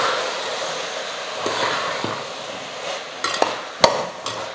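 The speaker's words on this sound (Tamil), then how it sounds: "ஒரு 2 நிமிஷம் காயெல்லாம் நல்லா வதங்கட்டும்" Vegetables for vegetable rice sautéing in a pan while being stirred, a soft steady frying hiss with occasional scraping clicks from the spoon, near and moderately loud, no talking.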